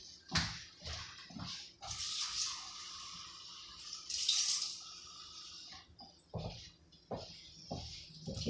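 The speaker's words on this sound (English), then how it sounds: "Okay, I'm going to fill up my container halfway." Water runs steadily into a container being filled halfway for a jumping-beans experiment, a close, splashy rush with short pauses and gurgles over about eight seconds.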